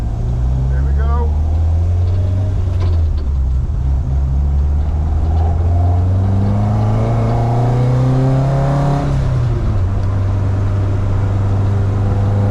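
A Ford Fiesta Zetec S lapping Cadwell Park circuit, its engine droning loud and steady, rising in pitch through the gears then dropping on a shift, with people talking over it in the cabin.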